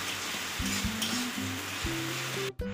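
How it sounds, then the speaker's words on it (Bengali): Ginger, garlic and onion fry in hot oil for egg korma, giving a close, bright, steady sizzle with repeated spatula scrapes against the pan, then cutting off abruptly near the end. "আদা রসুন পেঁয়াজ খুব ভালোভাবে তেলের মধ্যে কষিয়ে নিতে হবে যতক্ষণ না কাঁচা গন্ধ যায়।"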